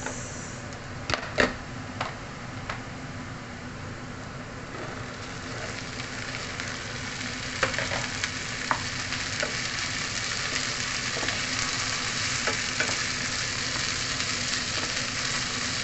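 Green long beans, lobia, cook Lebanese style in a pan, giving a continuous even frying hiss with a few sharp utensil taps early on and no voices.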